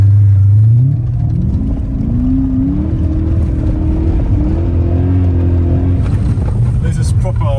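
A BMW M5 E39 engine drones loudly and continuously from inside the car on a snowy road, its pitch climbing as it accelerates in the first second and then holding a steady, heavy hum with faint cabin noise.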